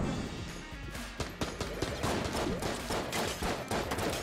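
Rapid bursts of gunfire from a rubber-bullet gun in Enter the Gungeon crackle in quick irregular volleys, loud and dense, with sharp impacts layered over a busy game soundscape.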